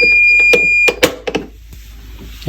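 A sump motor battery charging system's alarm gives a loud, steady high-pitched beep tone, then a few sharp clicks and knocks as the beeping stops, leaving a faint hum.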